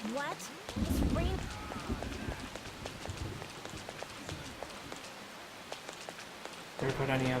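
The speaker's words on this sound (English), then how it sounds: "It's rain." In the video game Persona 5, rain patters steadily as a light, even hiss broken by scattered drops. Bursts of game sound or voices sit at the start and end.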